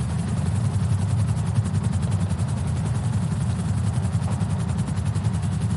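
A police helicopter hovers on scene in the game GTA, its rotor thudding in a fast, even pulse over a deep engine drone, loud and constant throughout with no talking.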